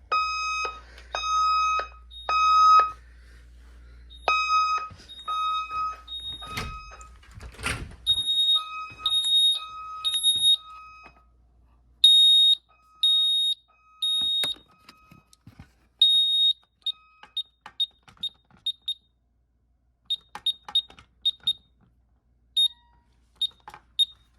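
An ADT Safewatch Pro 3000 security alarm panel sounds its fire alarm, a series of loud, high electronic beeps, steady at first and then in quicker, choppier bursts, with a brief clatter partway through.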